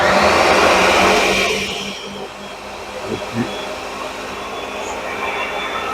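Tomatoes are pureed in a blender for tomato sauce, loud whirring for the first two seconds before it winds down, followed by a quieter continuous hum with faint handling knocks.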